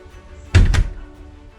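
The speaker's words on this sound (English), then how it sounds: "you can just open the door, and now we have a completely quiet door" A single solid door thunk lands mid-clip, a short, fairly loud close of a door fixed of its squeak, with a brief second knock-like hit right after.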